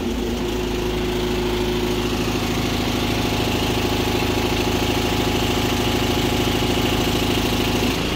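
Engine of a Marini MRP 350 remote control piling rig running continuously while its auxiliary line winch is released, a loud, steady mid-pitched drone with a throbbing hum and no talk.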